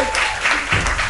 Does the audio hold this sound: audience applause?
yes